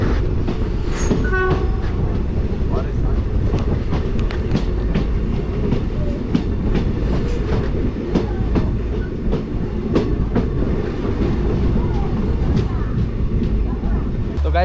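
Train 06602 Madgaon Special running between Surathkal and Gokarna Road, a loud steady rumble and clatter of rail cars heard from on board, continuous throughout with a brief horn-like tone early on.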